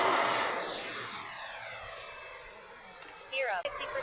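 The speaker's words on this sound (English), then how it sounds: "Does he have a flight simulator?" An aircraft engine in a flight simulator video game roars steadily, loudest at the start and then gradually fading and thinning, with a couple of sharp brief sounds near the end.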